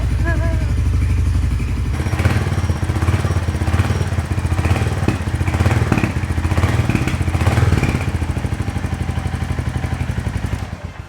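Close and loud, a Royal Enfield Hunter 350 single-cylinder engine idles after fresh oil, its steady pulsing thump running throughout with slight rises and dips, ending as it cuts off.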